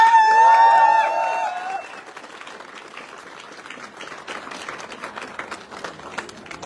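Applause from an audience at a motivational gathering, starting under a brief tonal sound and then carrying on as steady, moderate clapping with no voices over it.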